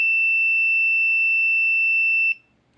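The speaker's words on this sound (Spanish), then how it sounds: "Presionando la letra C hasta que deje de chillar la alarma" MAM-860 controller alarm sounding as one steady, piercing high-pitched tone for over two seconds, then stopping abruptly, leaving near silence; close and alone.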